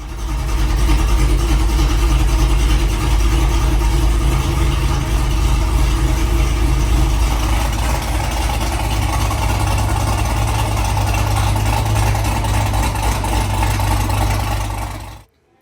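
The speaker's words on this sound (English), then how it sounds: "we'll load it up in the Camaro and we'll fire it up right now. Show you guys what it sounds like." A Gen V Camaro engine fitted with upgraded heads and cam runs loud and close at a steady, lumpy idle throughout, cutting off abruptly at the end.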